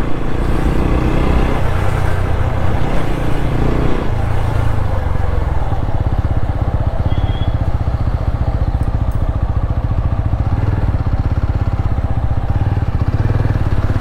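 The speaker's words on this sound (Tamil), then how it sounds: "சரியான டிராஃபிக் ஜாம்." Dense road traffic crawling along a jammed hill road toward Mannavanur, with motorcycle and car engines idling and revving close by in a continuous, steady rumble.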